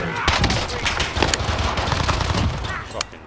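Rapid bursts of gunfire from a Call of Duty: Warzone match rattle on continuously, loud and dense, with overlapping shots throughout.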